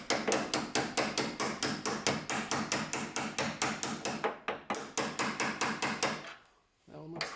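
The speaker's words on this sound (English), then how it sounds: "Now I'm just gonna give these a little tap," A hammer taps bolts to seat them in the door of a third-generation Chevrolet Camaro, a quick, steady run of close, sharp metallic blows with a short pause near the end.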